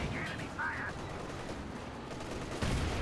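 MG34 machine gun firing in a Company of Heroes 2 battle, short bursts of gunfire crackling faintly within dense game combat noise, with no clear pause between volleys.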